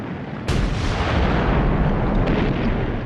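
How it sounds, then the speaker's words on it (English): A massed British artillery bombardment on the Somme in 1916 rumbles in with a sudden loud onset, then holds as a dense, continuous roar of gunfire that stays heavy and sustained throughout, with no voices. "When the British guns opened up on the Somme on the 24th of June 1916"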